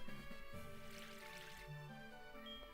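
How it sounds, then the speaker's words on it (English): Watering a Pecha berry plant in Pokémon SoulSilver, a soft game water effect of light drips and trickling heard alone over quiet background music. "I'm gonna water it."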